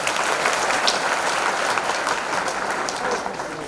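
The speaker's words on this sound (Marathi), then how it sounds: "त्याबद्दल त्यांचे जोरदार टाळ्या वाजवून आपण त्यांचे स्वागत करू." An indoor audience at a Hindu gathering in Chanda breaks into sustained, dense applause to welcome a speaker, with many hands clapping evenly for a few seconds.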